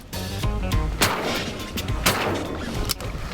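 A shotgun fired while duck hunting for sea ducks such as surf scoters and eiders, with a few loud booming blasts in quick succession over windy outdoor noise, close and heavy.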